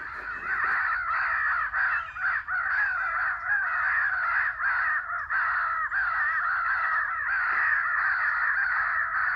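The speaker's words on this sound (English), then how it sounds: "I hear a crow coming in now." Crows caw loudly and repeatedly outdoors, a steady overlapping chorus of harsh calls lasting throughout with barely a pause, close and dominant.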